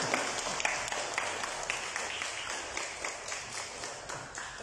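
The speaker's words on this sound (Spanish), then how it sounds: "Recibámoslo con un aplauso, por favor." Steady applause from an audience in a municipal cultural centre, even clapping with scattered sharper claps throughout, moderately loud and without speech.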